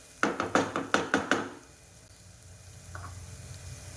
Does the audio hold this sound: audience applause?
no